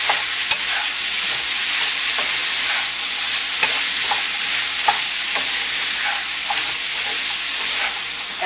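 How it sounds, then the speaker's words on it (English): Potatoes and vegetables sizzle steadily in a frying pan for vegetable korma, seasoned with ground red pepper. A constant close hiss is punctuated by faint scrapes of stirring. "I'm just going to let this cook till those potatoes get tender"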